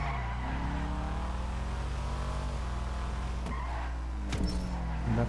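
A car in GTA V's Tuners street race braking hard and skidding, tires squealing over a steady loud engine drone, with a sharp screech burst near the end.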